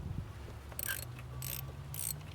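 A ratchet wrench tightens a fitting on the power steering reservoir of a 1996 Jeep Grand Cherokee, giving three short bursts of close clicking separated by pauses over faint background hum.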